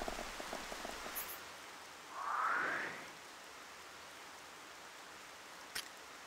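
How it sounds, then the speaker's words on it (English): Soft, steady rain in the video game Xenoblade Chronicles: Definitive Edition on Switch hisses quietly throughout, with a brief rising whoosh partway through; no voices. "It's raining."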